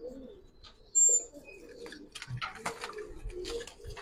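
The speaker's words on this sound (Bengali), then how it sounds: "আচ্ছা শাওন ভাই, এটা একটা মাদি কবুতর" A female pigeon of an old pigeon breed coos in a loft among other pigeons, with soft low coos and scattered chirps, a brief louder call near the start, and faint background rustling.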